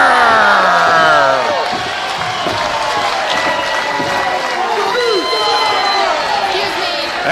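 A professional wrestling arena crowd cheering and roaring during a team match, a loud dense wall of shouts and whoops that keeps up throughout, with individual yells rising out of the mass.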